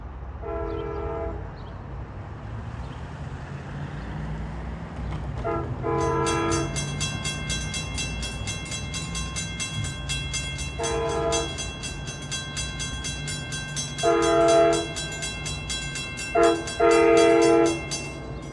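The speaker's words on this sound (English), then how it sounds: "He's got DE 30AC 410 with a decent K5 LA horn." A DE30AC diesel locomotive rumbles steadily as its K5LA multi-chime horn blasts several times, short and long blasts, loud and close, the final ones longest, on the Montauk Branch.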